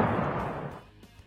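A single deep explosion booms, its rumbling roar decaying quickly into silence.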